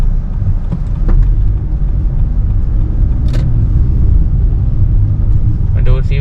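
A Toyota Alphard Vellfire 30 on 20-inch wheels with 245/40 R20 tires and Profender Fit shocks, cruising with a steady low road rumble filling the cabin and someone talking over it.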